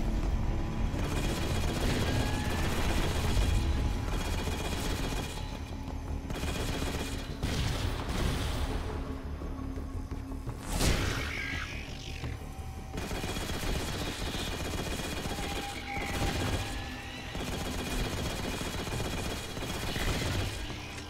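Gunfire in Halo: Spartan Strike crackles in dense, sustained bursts of rapid shots and booms, layered over game music and effects throughout.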